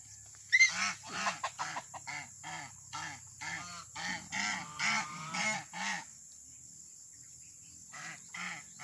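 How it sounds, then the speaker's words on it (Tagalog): Geese honk repeatedly at close range, a rapid series of loud, nasal calls in bursts that pause briefly before a few more honks at the end. "Ayun, tatabugain sila ng ganso."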